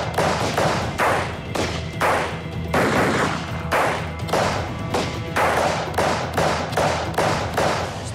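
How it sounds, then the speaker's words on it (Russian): Repeated bursts of chaotic black-powder gunfire in an uneven rhythm, loud and close, with heavy thuds continuing throughout without pause. "Стрельба была беспорядочная"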